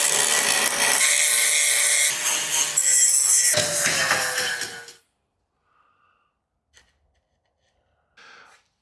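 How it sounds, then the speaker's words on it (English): A grinder works on the metal body of a VW Bug during a top chop, harsh loud abrasive whine for about five seconds, then near silence with a couple of faint knocks. "We grind it off."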